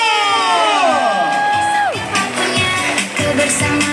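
A children's theater audience in Magelang cheers and claps as Gepeng Nugroho is called to the stage, with loud, sustained shouting and whoops from many voices under a gliding tone that rises and then falls away.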